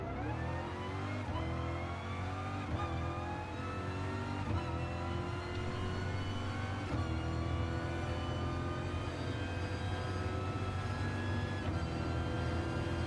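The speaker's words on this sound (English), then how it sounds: "Did you hear me just go through them fucking gears?" A race car in Gran Turismo Sport screams through its gears on a back stretch, the engine note climbing, dropping and climbing again with each upshift, loud and steady with no talk over it.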